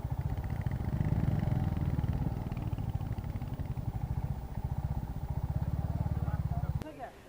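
A Royal Enfield motorcycle on a test ride gives off a close, steady, low thumping engine beat that runs unbroken before cutting off near the end, with a voice talking over it.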